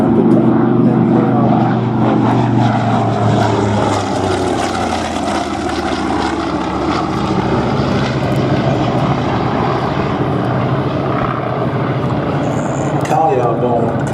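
An Avenger and a Wildcat, World War II carrier-borne propeller aircraft, drone overhead at a flying display, a loud sustained engine roar that slowly shifts pitch while a commentator speaks over it.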